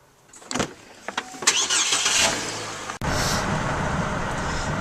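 A truck engine starts after a few clicks and cranking bursts, catches, then settles into a loud, steady idle close by, with no one speaking.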